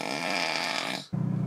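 A man snoring on a tiny island in Alaska, heard as one long, loud, rasping inhale that drops out, followed by the start of a deeper, buzzing rumble, close to the microphone and alone.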